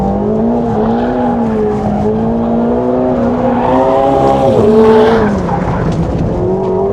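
A McLaren 750S laps a race track, its engine note loud and sustained as it runs down a long straight and rounds a turn, pitch rising and falling with harmonic whine and a brief surge in the middle.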